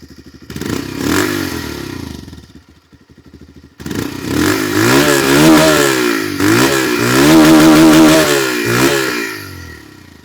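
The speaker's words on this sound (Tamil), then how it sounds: "ஸோ நம்ம அப்படியே இந்த வெஹிக்கிளோட எக்ஸாஸ்ட் நோட் கேட்டுடலாம். ஐடலில் இருக்க நோட்டு இது." A 2026 Bajaj Pulsar 180 motorcycle exhaust idles, cuts out briefly, then revs hard in repeated loud surges with rattling clatter.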